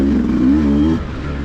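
A Beta 200 two-stroke dirt bike engine without a counterbalancer, a loud close buzzing drone that holds steady and then drops slightly in pitch and level toward the end.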